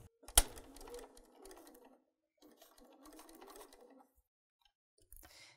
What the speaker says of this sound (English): So let's take that to the sewing machine, and we're going to sew that.